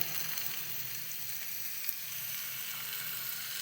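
Garlic and curry leaves frying and being stirred in a pan for a Kerala-style payar mezhukkupuratti, a steady close hiss of sizzling oil running unbroken throughout, with no talking.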